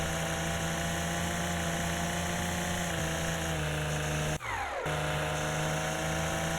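In the Lawn Mowing Simulator video game, a ride-on lawn mower engine drones steadily as it cuts grass in a pub garden. The even, tonal hum holds throughout, interrupted only by one brief dip and glitch near the end.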